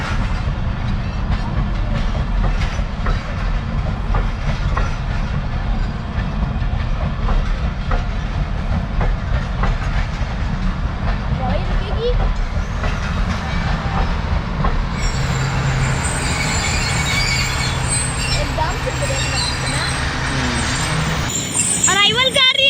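A train rolls past at a railway platform at Golra station, a steady loud rumble with clattering wheels and squeal near the end, while people talk over it.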